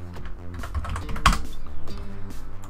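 A new password being typed on a computer keyboard, a quick run of close, crisp keystrokes in an uneven rhythm with one firmer key press midway, no talking.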